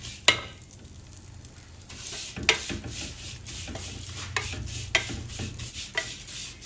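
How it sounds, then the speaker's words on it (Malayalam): Vermicelli roasting in a pan over a medium flame while being stirred, a soft dry sizzle with occasional sharp scrapes and taps of the spoon against the pan, close up and without voices. "മീഡിയം ഫ്ലെയിമിലിട്ട് നല്ല ബ്രൗണിഷ് കളർ ആകുന്നത് വരെ നമുക്ക് വറുത്തെടുക്കാം"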